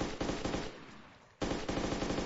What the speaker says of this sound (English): this is Celia with an easy shot here on Damien